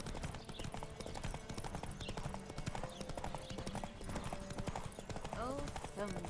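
Rapid clip-clop of galloping hooves in the video game The Witcher 3 runs steadily throughout, with someone talking over it and a faint horse whinny near the end.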